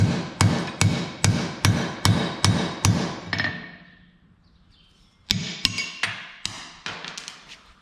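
Hammer strikes flatten a hole in a steel bracket using a 1/2 inch black pipe, ringing in a fast, even series of sharp metallic blows, then a pause and another quicker run, close and loud.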